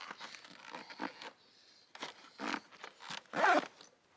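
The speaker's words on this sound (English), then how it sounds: "And just zip it on." Giant Loop tank bag being zipped onto a motorcycle, with a series of quick, close zipper rasps and fabric rustles in short uneven bursts.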